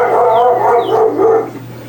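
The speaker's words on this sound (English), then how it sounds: "my dog says hi" A pet dog barks and yips in a few quick, close, loud bursts, then settles to a soft whimpering tail, with no talking.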